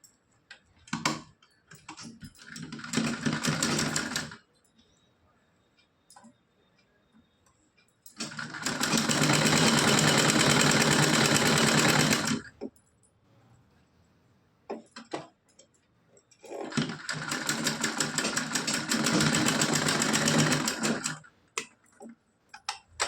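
Sewing machine stitching lace onto a small kurta-dhoti doll dress, running in three long bursts of steady motor whir and needle chatter, each several seconds long, separated by quiet pauses.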